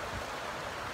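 A mountain stream in Yosemite National Park flows steadily, a soft broadband rush of water that is faint and even, with no voices.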